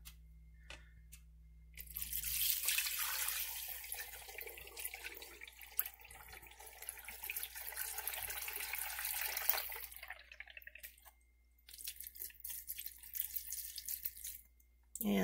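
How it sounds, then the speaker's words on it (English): Fresh goat milk pours through a filter in a quiet kitchen, a soft continuous splashing trickle that starts after a couple of seconds, pauses briefly near the end, then resumes. "So once you have your filter in place, you just put your milk through the filter."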